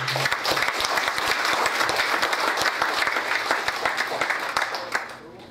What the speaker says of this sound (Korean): 우리 격려 박수 한번 부탁드립니다